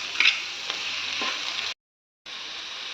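Tomato frying in a pan with capsicum and onion for a paneer capsicum butter sandwich, a steady close sizzle with a few small pops that cuts out completely for a moment, then resumes.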